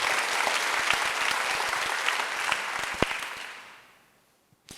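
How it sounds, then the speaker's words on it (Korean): Loud clapping from a congregation during a Sunday church worship service: a dense burst of many hands that tapers off and falls to near silence, followed by a single faint knock at the very end. "깨달은 사람은 크게 박수 한번 쳐보세요."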